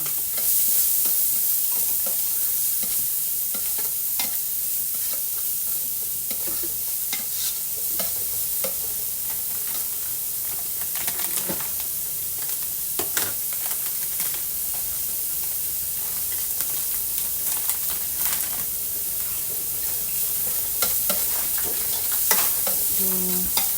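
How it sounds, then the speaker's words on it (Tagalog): Ginger stirred and sautéed in a pan while cooking arroz caldo gives a steady, close sizzle with frequent scraping and knocking of the utensil against the pan, and no one speaks. "So, mix lang po natin ng ilang sandali ang ating luya."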